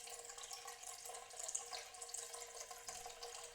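Water poured into Neapolitan pizza dough in a mixing bowl, a soft continuous trickle and splash running steadily for a few seconds with no voices.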